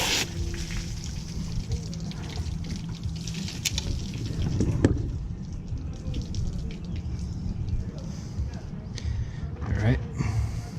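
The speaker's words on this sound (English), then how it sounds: "quick rinse this way. Rinse out all the gunk." Water sprays and splashes through an air conditioning unit, rinsing out gunk in a steady wash with dripping and patter, while a voice talks over it now and then.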